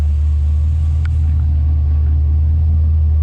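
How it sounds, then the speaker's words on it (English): An International Scout 80 with an LS engine swap idles at about 600 RPM, a loud, steady, deep low rumble with a single faint click partway through. "Idling at about 600 RPM."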